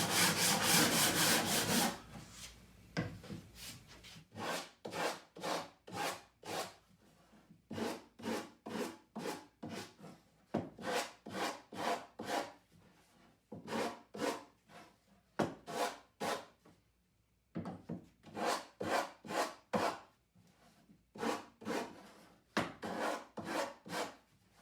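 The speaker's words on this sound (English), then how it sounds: "I like to take a sanding block. Just give it a light chamfer everywhere" A sanding block chamfers the edges of wooden horse parts in repeated brisk rasping strokes, grouped in quick bursts separated by short pauses, close and fairly quiet with no talk.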